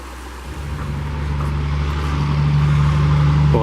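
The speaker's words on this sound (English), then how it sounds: "And you can tell we're close to a highway." Loud, steady roar of highway traffic near a creek in Georgia's Chattahoochee National Forest, engine rumble building gradually, vehicles rushing past close by.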